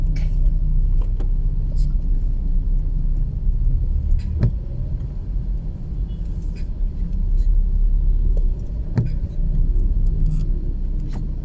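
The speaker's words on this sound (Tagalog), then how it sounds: "Traffic." Road traffic on EDSA, a dense, steady rumble of cars and engines close by, with occasional passing vehicles and faint background voices throughout.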